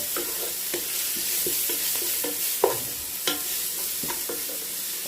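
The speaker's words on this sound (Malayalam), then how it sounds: "വെളുത്തുള്ളി ചൂടായി വരുന്നുണ്ട്" Crushed garlic fries in a hot pan for biryani, making a steady, close sizzle punctuated by scraping and tapping from stirring, with no talking.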